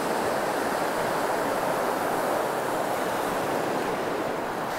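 Ocean surf rolling onto a saltwater beach where someone is shore fishing, a steady loud wash of breaking waves filling the whole stretch without a break and no voices on top.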